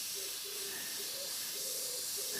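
An airbrush sprays paint in short bursts while working a monochrome portrait, a steady close hiss of air rising and falling as the trigger is pressed and released, with no voices.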